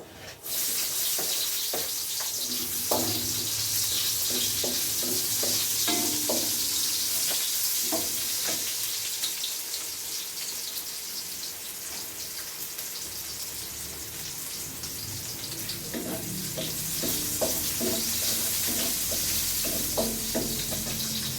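Garlic and onions frying in a pan for a Christmas dish, a dense, steady hiss of oil running throughout, with intermittent stirring clinks and scrapes, close and prominent.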